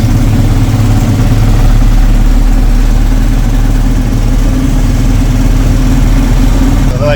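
A motorbike fitted with a large steel-framed sidecar, used as a tricycle taxi near central Dumaguete, Philippines, idles steadily and loudly close by, a continuous low rumble with no talk over it.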